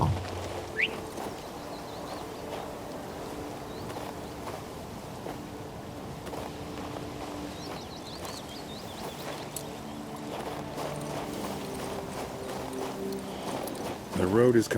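Horse hooves clip-clop in King's Bounty II, a soft steady rhythm under ambient game sound and birds, with someone talking over it.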